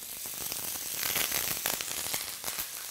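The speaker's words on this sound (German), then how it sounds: "Ab in die Pfanne, von beiden Seiten ordentlich anbraten." Lamb loin sears in a hot frying pan with olive oil, giving a steady, close, loud sizzle and crackle throughout with no talking.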